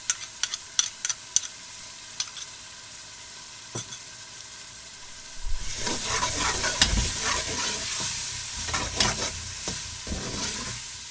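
Garlic and ginger frying in a pan for Lahori-style paya, first a few sharp clinks and taps, then a loud, dense sizzle with stirring scrapes that keeps going to the end.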